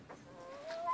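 A pet chicken gives a faint, short cluck with a rising, squeaky note, heard close in a quiet backyard.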